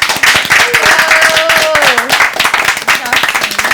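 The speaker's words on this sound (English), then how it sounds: "Round of applause." Housemates clap for a returning guest, the winner of last season's Perfect Match: close, crisp handclaps from a small group, rapid and uneven, mixed with excited voices and cheering throughout.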